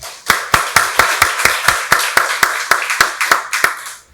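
A church congregation at a Sunday service claps in unison, about fifteen sharp, evenly spaced claps in a steady rhythm, loud and close with no talking over them.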